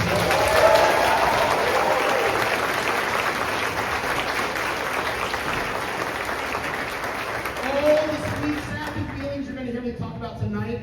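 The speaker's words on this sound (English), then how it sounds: "Give them a round of applause." An audience claps steadily for a high school choir at a spring concert, the applause gradually thinning as voices begin speaking near the end.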